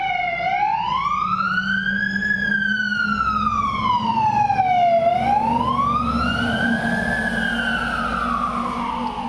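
A loud wailing ambulance siren sweeps slowly up and down in pitch, passing nearby over the low rumble of traffic.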